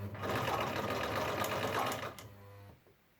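Sewing machine running a zigzag stitch through a vacuum cleaner bag, a steady rapid mechanical whirring that holds for about two seconds, then slows and stops, close and clear.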